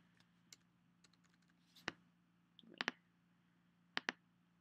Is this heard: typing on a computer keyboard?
yes